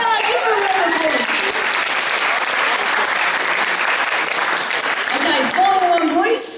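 Audience applause fills the room, loud and sustained throughout, with crowd voices and cheering rising over the clapping at the start and again near the end.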